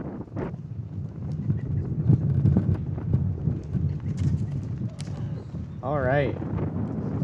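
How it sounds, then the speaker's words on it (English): Wind blowing across the microphone outdoors at a flag raising ceremony, a steady rough rumble throughout, with a person speaking briefly and a few faint background voices. "The wind picked up as soon as I came up here"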